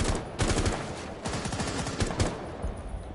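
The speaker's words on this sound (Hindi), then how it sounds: "वही गोलियां मारी है लगी नहीं" Rapid bursts of automatic gunfire in a video game crackle in quick succession, loud and dense, with sharp repeated shots throughout and no voices.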